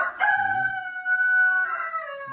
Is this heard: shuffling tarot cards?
no